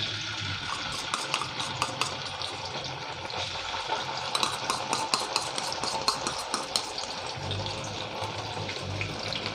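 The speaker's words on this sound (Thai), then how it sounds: "ผัดต้นหอมให้พอเฉานะครับ" Green onions stir-fried in a hot pan give a continuous close sizzle, with a spatula scraping and clinking against the pan as they are tossed, and no talking.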